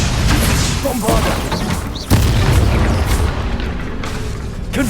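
Bombarda spell explosions in Hogwarts Legacy, heavy booming blasts with a sharp hit near the middle, layered over continuous combat noise and a voice calling out.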